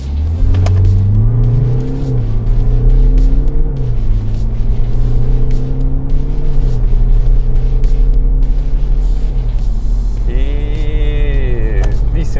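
A car accelerates hard through a 0-100 km/h run. The loud engine note climbs and drops with each gear change, then rises again toward the end, droning steadily throughout.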